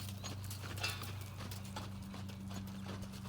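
A horse in working trot during a riding lesson, with soft rhythmic hoof beats thudding repeatedly at a steady pace, faint and somewhat distant over a low background hum, with no talking.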